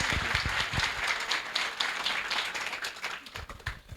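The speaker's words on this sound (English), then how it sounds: "Let's give him a round of applause." Sustained applause from a ceremony audience greeting a student speaker, dense rapid clapping at steady loudness that thins slightly toward the end, with no talking over it.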